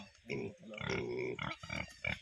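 Pigs on a small rural pig farm give a run of close, rough grunts and snorts in uneven bursts, fairly faint with no talk over them.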